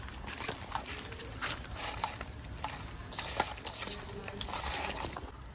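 Red rooster chicken pieces mixed by hand with spices, black pepper powder and oil, giving close, continuous wet squelching and soft slapping with no talking.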